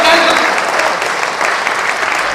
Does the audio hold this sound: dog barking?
no